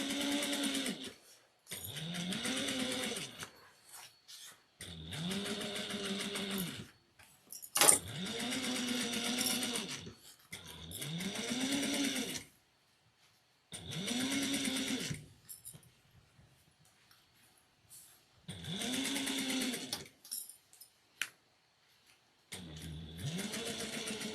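A sewing machine stitches a triangular shoulder bag at a 3.5 stitch length with backstitching, running in short whirring bursts separated by pauses, close and fairly quiet.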